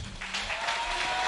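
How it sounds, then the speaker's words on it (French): An audience at a gospel singing contest applauds steadily, a dense wash of many hands clapping close by, with no voices rising above it. "Je vous demande de les applaudir chaleureusement."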